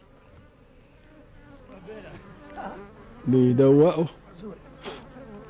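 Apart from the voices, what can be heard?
bees buzzing around honeycomb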